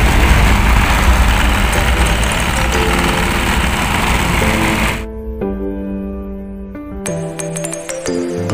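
A Mahindra Bolero engine, just rebuilt with its sleeves replaced, idles steadily and up close, with a rough, even firing rhythm and no talk over it.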